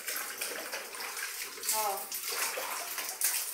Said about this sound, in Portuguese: Aí vai saindo a água toda dela.